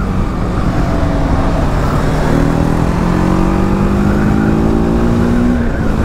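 A TVS Apache RTR 310 motorcycle engine drones loud and close. Its pitch climbs steadily as it revs up midway, then drops off near the end, with no talking.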